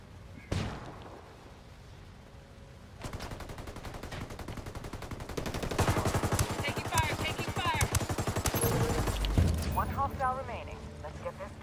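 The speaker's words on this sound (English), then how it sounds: "I'm chucking a flashbang." A flashbang goes off during a firefight in the video game Ghost Recon Wildlands, amid rapid bursts of gunfire and a sharp blast, with a voice talking over the action.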